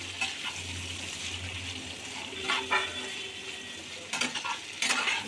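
A utensil stirs tomatoes and a little sugar in a pan over low heat for a chicken butter masala gravy, with soft scraping and a gentle sizzle, then a few sharper clatters near the end.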